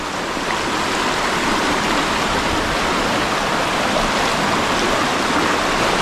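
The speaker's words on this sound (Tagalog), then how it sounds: "Basta malakas yung baha." Strong floodwater rushes in a continuous, loud, close roar during heavy rain, a dense and unbroken wash of churning water with no pauses and no voices.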